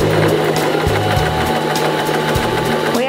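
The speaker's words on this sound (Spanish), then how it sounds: "Voy a hacer un atraque para finalizar mi costura." A Janome Alta Gama 2049x sewing machine runs steadily for about three seconds, its rapid mechanical stitching whir loud and close, with no one talking.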